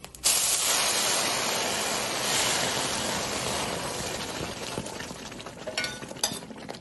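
Dal tipped into hot ghee tempered with cumin and turmeric sizzles loudly at once, a bright spitting hiss that slowly settles, with a few clinks of a utensil near the end.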